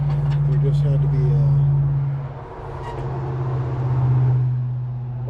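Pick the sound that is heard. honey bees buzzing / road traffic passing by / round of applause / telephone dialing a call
road traffic passing by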